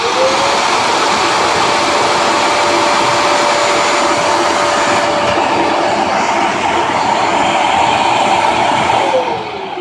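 A Vax W87-DV-R carpet washer works over ground-in dirt on a carpet, a loud steady motor whine with suction rush running continuously and close up, easing slightly near the end.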